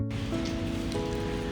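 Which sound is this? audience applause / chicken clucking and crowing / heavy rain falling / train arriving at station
heavy rain falling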